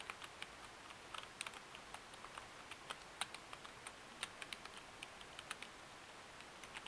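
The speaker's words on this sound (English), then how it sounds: "now the keys aren't too loud, like if I don't clap them with my finger" Soft, quiet gaming keyboard keystrokes tap in an irregular stream, each press light and muted, with no talking.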